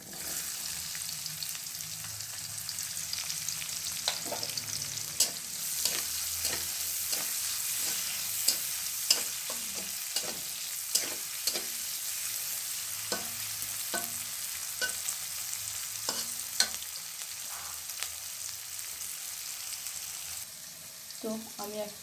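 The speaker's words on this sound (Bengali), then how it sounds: "এবং দিয়ে দেব পেঁয়াজ কুচি।" Chopped onion and cumin seeds frying in hot oil, a continuous close sizzle broken by repeated scraping and stirring clicks from a spoon against the pan, with no talking.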